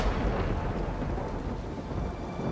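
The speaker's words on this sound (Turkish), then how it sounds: "Yıldırım düştü. Bayağı yakına." Heavy thunder from a nearby lightning strike rumbles continuously, loud and close, mixed with the dense hiss of pouring rain, no voices heard.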